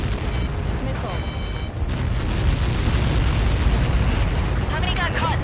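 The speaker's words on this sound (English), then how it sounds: "How many got caught in that explosion?" A huge explosion in the flight combat game Ace Combat 7 after a missile impact, heard as a loud, sustained rumbling roar with crackling debris and a few brief electronic tones over it.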